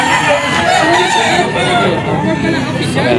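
Roosters crow and hens cluck amid lively chatter at a pet market, with several overlapping bird calls and people talking nearby.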